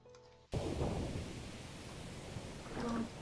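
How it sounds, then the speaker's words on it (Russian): Steady rain falls in a music video, a dense, fairly loud hiss of drops that starts abruptly and continues evenly for about three seconds. "Это капли, это дождь."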